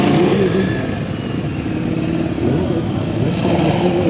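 A Yamaha Drag Star 400 motorcycle at a motogymkhana event, its engine revving and accelerating hard, loud and close, with a steady roar that rises and falls and no talk over it.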